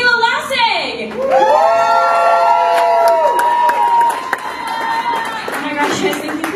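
A stand-up comedy audience at The Oasis in San Francisco cheers, whoops and applauds as the comedian Michaela Lassig takes the stage. The crowd noise is loud and sustained, with high shouted voices rising over the clapping.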